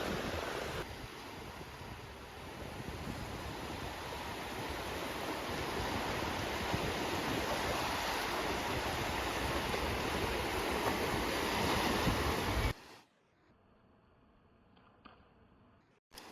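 Waves washing onto the shore of Kapchagay reservoir make a steady, loud, broadband surf roar with wind buffeting. It breaks off abruptly near the end into quieter background.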